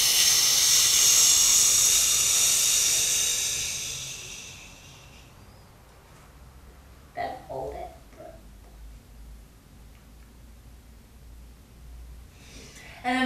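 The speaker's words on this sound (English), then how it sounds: "Inhale. 1, 2, 3, hold, and exhale." Deep breathing during a stomach vacuum exercise: a long, loud airy exhale fills the opening seconds and fades out, leaving quiet stretches with a few short breathy bursts and sniffs, close to the listener.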